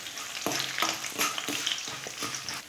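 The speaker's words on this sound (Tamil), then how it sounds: "இதெல்லாம் சேர்த்து நல்லா வறுத்துக்கலாம்." Mustard seeds, cumin, urad dal, chana dal and red chillies roasting in a pan, a continuous sizzle broken by repeated scraping stirs that come every half second or so, close and clear with no talk.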